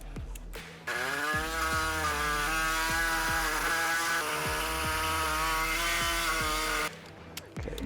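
A power cutting tool bites into a metal rear big-brake part on a Z1 off-road vehicle, a loud steady whining grind for about six seconds between short gaps of quiet.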